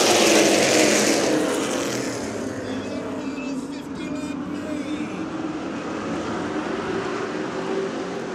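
Pro Late Model race cars accelerate together at the green flag at Orange Show Speedway, a loud, sustained engine roar rising and fading as the pack pulls away.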